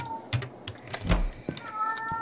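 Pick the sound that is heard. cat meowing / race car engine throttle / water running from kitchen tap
cat meowing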